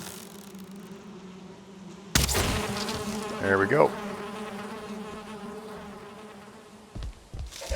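Bees buzz as a constant low hum in the video game Valheim, fairly close, under game sounds and a short spoken remark.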